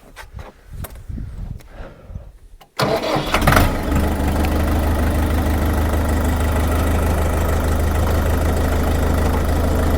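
An Eney 404 mini tractor's engine cranks and catches after a few seconds of quieter handling noise, then settles into a loud, steady diesel idle that runs close and alone to the end.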